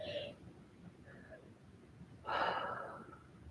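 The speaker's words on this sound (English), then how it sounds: "Taking one more deep breath here." A deep breath during a stretching exercise: a few soft faint breaths, then a louder, longer whooshing exhale close to the microphone near the end, with no talking.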